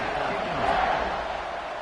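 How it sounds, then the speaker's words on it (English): A football stadium crowd in an NCAA video game, giving off a steady, dense roar of cheering that swells slightly midway through the short stretch. "this crowd is buzzing after that last score"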